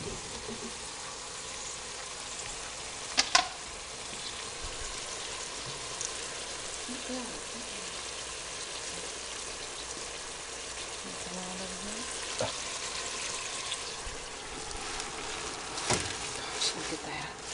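Greens and onion fry in bacon drippings with salt and pepper, a faint steady sizzle and crackle with a few clinks of a utensil against the pan.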